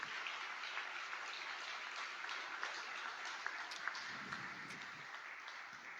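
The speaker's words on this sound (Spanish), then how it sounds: "dé un aplauso al Señor" A church congregation applauds in praise, a faint, steady wash of many hands clapping that continues without pause across the whole stretch.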